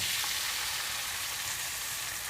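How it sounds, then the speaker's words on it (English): Steak sears in hot oil in a pan over high heat, a steady, close hissing sizzle that holds unbroken and fairly quiet throughout, with no talk. "we're going to sear the steak just so it gets some color on the outside"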